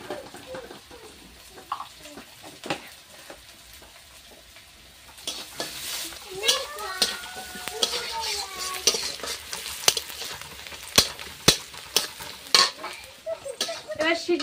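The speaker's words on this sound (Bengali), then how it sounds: "এক চামচ পাঁচ ফোড়ন দেবো।" A spoonful of panch phoron spices sizzles in hot oil, the crackle swelling abruptly partway through into a bright, popping fry with occasional sharp clinks from a utensil.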